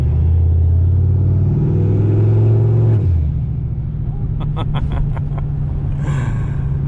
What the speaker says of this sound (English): I could just listen to that blow-off valve all day